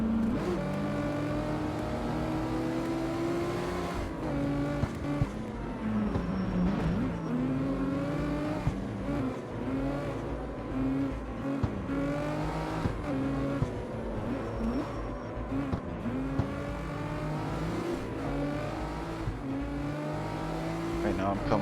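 A race car in the street-racing game CarX Street drives along with a continuous engine drone that rises and falls in pitch through gear changes, plus occasional tire noise.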